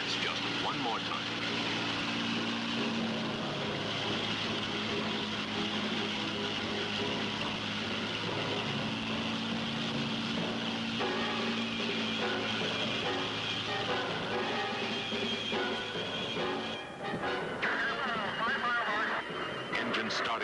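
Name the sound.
airplane flying at high speed on world speed record attempt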